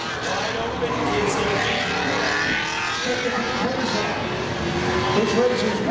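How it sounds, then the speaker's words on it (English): Pontiac Firebird in a spectator drag race at Seekonk Speedway: a steady engine roar from a distance, with race commentary carried over it. "Perry going to take the high line here from Swansea in his Pontiac Firebird."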